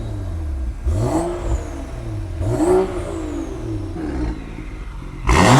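Porsche 911 Turbo engine revving in repeated rising and falling bursts, about four throttle blips with a whining overtone, fairly close and loud, ending in a sharp surge, with no talk.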